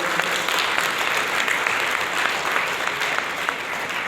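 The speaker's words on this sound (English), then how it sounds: "Can we have a huge round of applause for him?" A large audience applauds a Paralympic powerlifter at a company event, dense sustained clapping that holds an even, loud level throughout with no speech over it.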